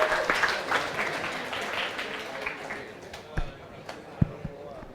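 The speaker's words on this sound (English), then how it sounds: "Give this man an applause." Audience members at an entrepreneurship talk event clap in a fairly loud, dense burst that gradually thins out, with a few scattered thumps and voices mixed in toward the end.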